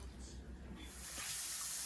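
Water pours steadily into a cooking pot holding sofrito and beef chunks, a rushing, splashing hiss that builds louder toward the end.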